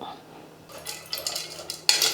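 A ladle stirs soaked ingredients with salt and turmeric in a pressure cooker pot, giving scraping and clinking metal sounds that start faint and grow into several louder clanks near the end, with no talking.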